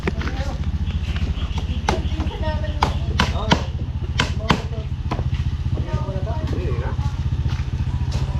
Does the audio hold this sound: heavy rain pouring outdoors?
no